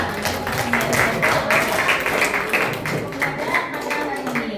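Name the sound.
audience applause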